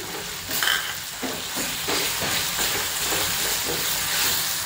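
Green chili, coriander and garlic paste sizzles and fries steadily with browned onions in a pan, a continuous close hiss with soft stirring scrapes throughout.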